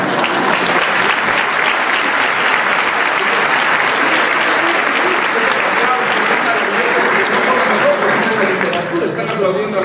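Sustained audience applause at a literary dialogue event, a dense steady wash of many hands clapping from start to finish, loud and close, with some voices mixed in underneath.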